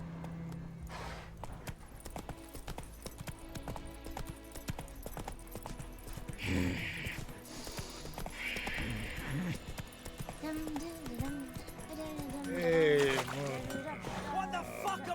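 Roach's hooves clip-clop steadily in The Witcher 3, a faint rhythmic trot under game ambience, a brief snort and character speech.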